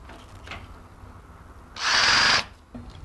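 One short, loud whirring burst from a power drill driving a screw into a Red Sea MAX S aquarium stand, set between quieter handling noises.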